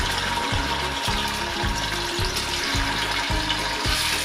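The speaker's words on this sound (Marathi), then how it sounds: "गरम झाले आहे तर त्यामध्ये मी आता हे पनीरचे तुकडे टाकते" Paneer cubes fry in hot oil on a tawa, a loud close sizzle with a regular low pulsing rhythm repeating about every half second beneath the hiss, with no speech.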